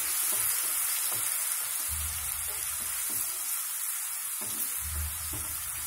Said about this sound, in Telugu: మనం అల్లం వెల్లుల్లి ముద్ద కూడా ఇందులోనే వేయించాలి